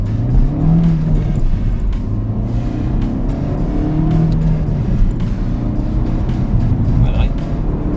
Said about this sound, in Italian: perché è veramente meno silenziosa di quello che mi aspettavo, perché comunque il motore si fa sentire